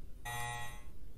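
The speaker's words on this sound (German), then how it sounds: "So, hier ist der Alarm noch." A single electronic alarm tone sounds in Resident Evil Code Veronica X, a buzzy, harmonic beep lasting about half a second, moderately faint against quiet background.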